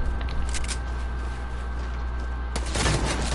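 Grenade blasts and gunfire ring out during a video game firefight, a continuous rattle of shots capped by a sharp, loud explosion burst near the end.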